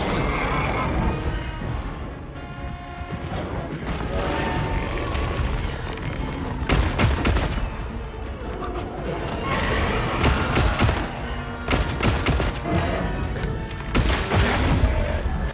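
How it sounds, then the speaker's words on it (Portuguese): Rapid bursts of bowgun fire pound against Doshaguma in the Monster Hunter game, a dense, loud barrage of booming shots layered over constant battle noise throughout. "É importante que usem o modo metralhadora para poder abrir as feridas ao Doshaguma"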